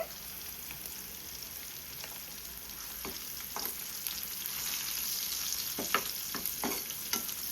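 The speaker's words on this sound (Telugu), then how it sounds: "షార్క్ ఫిష్ని వేపుకుందామండి. కొంచెం ఆయిల్ వేసుకుందాం" Dried shark fish pieces fry in a pan of oil with turmeric, giving a steady sizzling hiss that swells slightly toward the end, with a few sharper spatters and stirring clinks and no talk.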